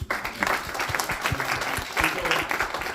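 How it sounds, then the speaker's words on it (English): Audience applause at an evening artists' talk, a steady wash of clapping from a crowd lasting the whole moment, with some voices mixed in underneath. "let's give ourselves a round of applause."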